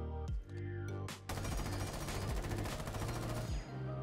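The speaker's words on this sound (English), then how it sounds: "First, I will shoot this automatic weapon without rapid fire." An automatic weapon fires in a video game without rapid fire: a few opening shots, then a long sustained burst of dense, loud rattling gunfire that cuts off near the end.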